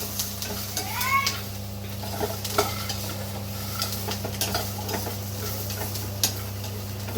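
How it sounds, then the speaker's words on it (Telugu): Peanuts roasting in a pan at home, stirred with a spoon that scrapes and clinks against the metal over a low steady hum, the nuts crackling faintly, with no talk. "పల్లీలు వేయించుతున్నారు."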